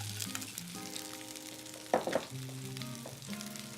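Bok choy and red onion frying in a pan, a steady sizzle running throughout with a brief louder burst of spatter midway as the food is flipped, and a faint background hum.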